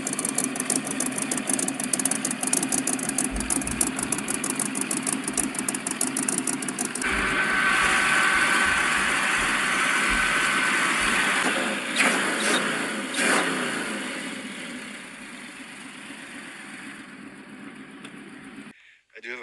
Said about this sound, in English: This is my 1975 Ford Pinto. It has a 302 V8 in it that came out of a 1980s Mustang